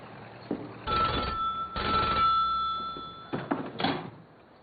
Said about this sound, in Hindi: मिलेवा मैरिज का फोन है।